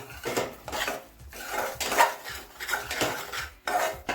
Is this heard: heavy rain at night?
no